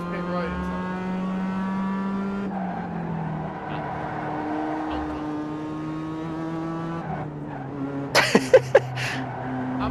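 A race car engine in a racing video game drones steadily, its pitch shifting as gears change, with a cluster of sharp clicks near the end and no talk over it.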